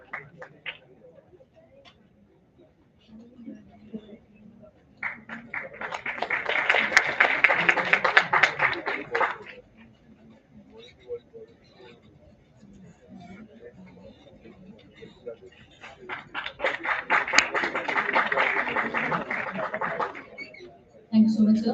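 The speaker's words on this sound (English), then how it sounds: "Let's have a huge round of applause for Dr. Ajay Kumar" A conference hall audience gives two separate rounds of steady, dense clapping for Dr. Ajay Kumar, each lasting about four to five seconds, with quieter stretches of speech before, between and after them.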